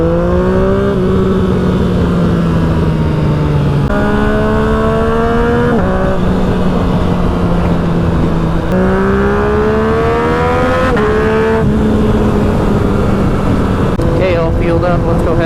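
A Yamaha FZ motorcycle is ridden through several gears, its engine loud and close as each rise in revs climbs and then drops at a shift. Wind roar runs throughout and a voice speaks over it.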